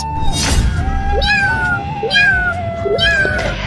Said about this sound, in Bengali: এই বিড়ালের আওয়াজ কোথা থেকে আসতেছে?